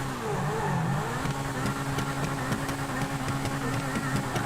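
A sports car's engine in an open-world police-chase video game, a steady loud revving drone with a rising whine that holds for about four seconds, with rhythmic clicks over it and no voices.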